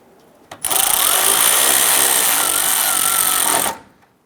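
Power tool driving the AC line bolt on a 2008-2013 Nissan Rogue during water pump replacement, a loud steady whir for about three seconds after a brief click, then stopping abruptly.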